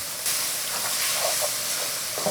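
Blanched octopus (nakji) hits a hot pan for a spicy stir-fry and sizzles with a loud, steady hiss that holds throughout, broken only by faint stirring clatter.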